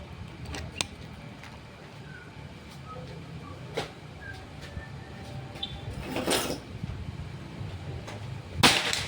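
A sharp shot from a Predator Pajero Gen 6 air rifle during an accuracy test cracks out late in the clip, after a stretch of quiet outdoor ambience with a few faint ticks and clicks.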